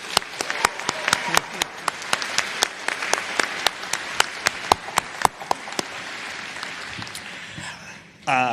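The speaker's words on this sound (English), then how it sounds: "Let's give them a big round of applause." Applause from a commencement ceremony audience for the event staff, a crowd clapping steadily with crisp, loud individual claps close by, tapering off before a brief sound at the end.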